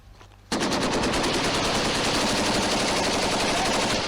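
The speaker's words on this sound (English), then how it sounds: "Their machine guns have a smaller rate of fire" Sustained automatic machine gun fire from real battle footage with SAS and Marines bursts in suddenly after a quiet moment and continues as a loud, dense, rapid rattle.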